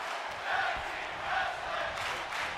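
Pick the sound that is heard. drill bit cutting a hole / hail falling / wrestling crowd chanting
wrestling crowd chanting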